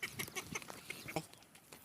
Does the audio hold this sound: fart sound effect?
no